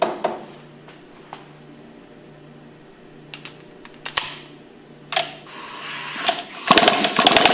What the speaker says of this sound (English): We'll go ahead and remove it with a 5/8 socket.